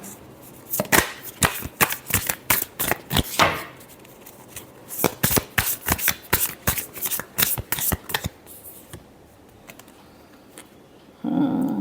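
Tarot cards are shuffled up close in rapid crisp riffling bursts, a long run of quick snaps, a brief pause, then another run, with no voices.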